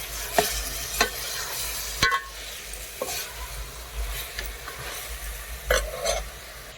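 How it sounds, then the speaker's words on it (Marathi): Washed mutton sautéed in a pan over a wood-fired stove, a soft sizzle punctuated by several sharp scraping stir strokes at irregular intervals, close and without speech. "हे आपण धुवून घेतलेलं जे मटण आहे ते टाकून घेणार आहे आणि छान परतून घेणार आहे"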